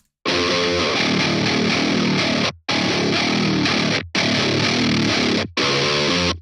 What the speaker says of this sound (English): Really listen to the way the distortion breaks up.